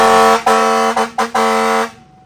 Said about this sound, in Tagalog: Yung busina lang pre, bigyan mo kami ng isang sound check dyan.